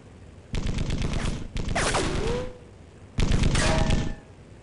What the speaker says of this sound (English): I also tell my pedestrian to open fire.